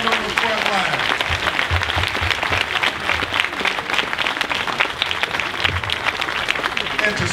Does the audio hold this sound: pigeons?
no